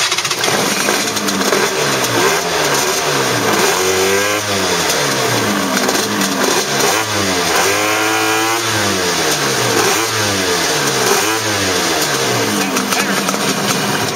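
An engine with one dead cylinder runs loudly and continuously, rising and falling through several uneven revs over a steady rough idle.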